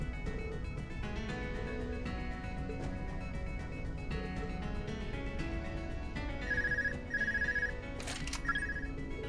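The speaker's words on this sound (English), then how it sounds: "Apparently we can get phone calls in our void dimension space." A telephone ringing in the video game Trails of Cold Steel II, a few repeated electronic ring bursts late in the clip over steady background game music.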